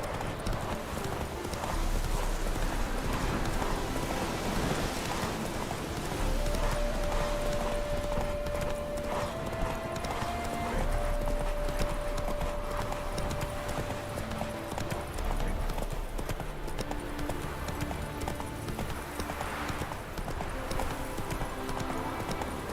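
Roach, the horse in The Witcher 3, gallops in a steady, rapid clip-clop of hooves under continuous game music and ambience. A short neigh rings out partway through.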